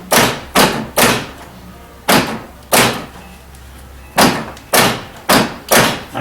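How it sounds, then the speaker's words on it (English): A GMC or Chevy power door lock actuator clunks repeatedly, about ten sharp close thumps in uneven pairs and singles, loud and alone with no talk. "So you see the door lock actually is nice."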